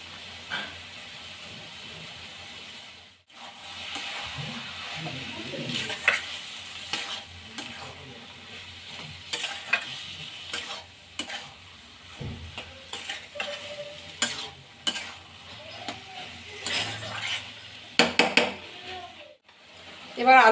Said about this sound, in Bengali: বারবারই নেড়ে দিতে হবে, নাহলে তলায় লেগে যাবে।